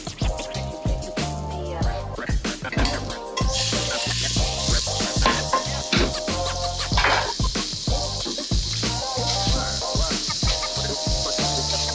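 Beef, onion and pita bread tossed in a hot pan, giving a steady loud sizzle under repeated sharp scraping and clanking of metal on the pan.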